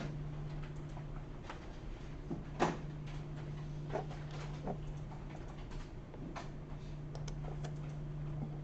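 Sparse keystrokes tap on a computer keyboard, irregular and quiet, over a low steady electrical hum.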